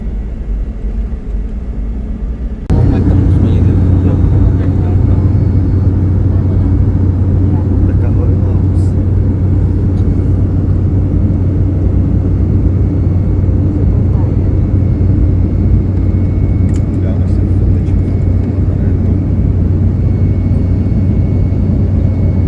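A Lao Airlines passenger airplane on its takeoff run, heard from inside the cabin as a loud, steady engine roar swells abruptly a few seconds in and holds as a continuous rumble with a low drone.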